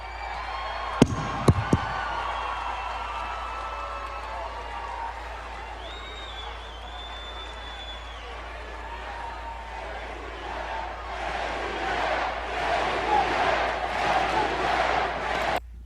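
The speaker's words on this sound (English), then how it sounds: "The crowd go crazy and start chanting HBK" A wrestling arena crowd swells into loud cheering and rhythmic chanting after a few sharp slams and a quieter stretch, the roar building toward the end.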